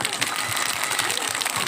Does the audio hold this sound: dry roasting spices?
no